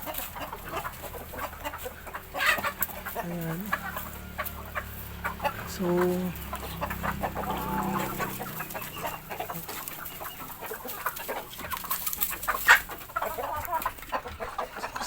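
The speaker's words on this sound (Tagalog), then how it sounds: "Ang aking mga manok." Backyard poultry flock of chickens clucking and chattering in several close and distant bursts, with occasional other birds and someone speaking briefly over outdoor background noise.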